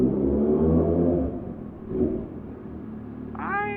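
A BMW motorcycle and a Harley arrive, their engines a steady low rumble that swells and eases, with a brief rising rev near the end.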